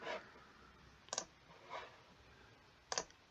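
A few sharp computer mouse clicks, quiet and close, spaced out over a few seconds while a website is being edited, with faint softer rustles between them.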